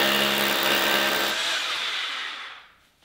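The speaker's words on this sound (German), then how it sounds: "Hab, glaube ich, zu tief gebohrt." A hammer drill bores into a wall with a hollow cavity behind it, a loud harsh whining grind that runs steadily and then spins down and stops near the end.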